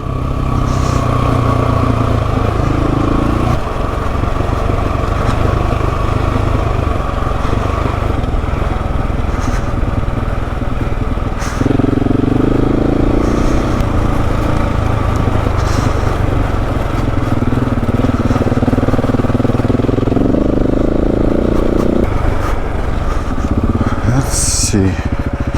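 Adventure motorcycle engine droning steadily while riding over Hagerman Pass in Colorado, a loud, continuous rumble with rising and falling revs, mixed with wind and road noise throughout.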